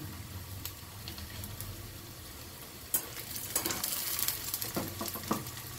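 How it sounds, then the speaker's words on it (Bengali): Onions frying in a pan for a Bengali mustard and pointed gourd curry, a steady low sizzle with stirring scrapes and a few louder clatters toward the end, no voices. "পেঁয়াজটা ভাজা হয়ে গেছে, পেঁয়াজের ওপর আমি সর্ষেটা দিয়ে দেব।"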